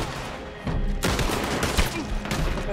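Sniper rifle fire in Red Dead Online rings out as a string of sharp, loud gunshots over a dense, noisy background.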